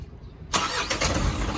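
An Isuzu 4HG1 truck engine cranks and catches abruptly after a brief quiet moment, then settles into a steady close-up running rumble with a faint high whine.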